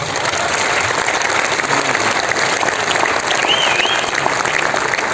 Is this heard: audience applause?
yes